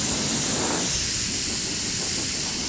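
An airbrush gives off a continuous, close, steady hiss as it sprays a fine mist of paint onto a Halloween-themed skateboard. No one talks.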